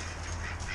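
A flock of ducks quacking close by, a short dense burst of overlapping honking calls.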